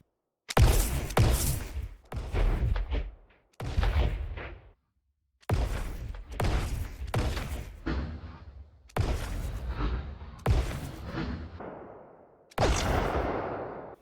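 A Krotos sci-fi laser pistol preset firing in a series of separate sharp blasts with ringing tails, ending in a longer, noisier explosion burst; loud and close with short silences between shots.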